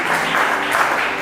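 A church congregation applauding during a Friday worship service, a brief dense wash of many hands clapping nearby at full strength.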